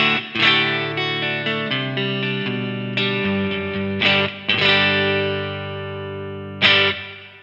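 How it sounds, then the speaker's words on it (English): Clean electric guitar through a Blackstar Studio 10 6L6 amp, chords and single notes ringing out with sustained, bright tone and no talking. "So here is how the guitar sounds completely clean."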